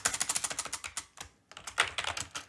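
Fast, close typing on a computer keyboard in Notepad++, a rapid run of crisp key clicks, a brief pause, then another quick burst of keystrokes.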